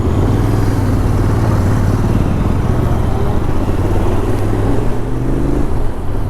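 A Triumph Speed 400 motorcycle on a test ride gives a steady, loud engine drone with a low rumbling hum that holds throughout, with no talking.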